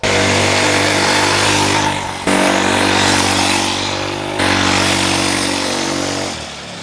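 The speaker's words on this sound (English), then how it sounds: "This is the new Fit Right DB003 mini bike, and you are watching me going fast." A Fit Right DB003 mini bike races along at full throttle, its small engine giving a loud, buzzy, steady drone with brief dips as the rider shifts or eases off.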